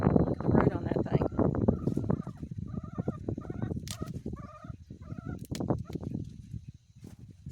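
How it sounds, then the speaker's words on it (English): Chickens cluck and squawk in short bursts close by, with a person talking over them and some rustling. "I'm tossing them to the chickens."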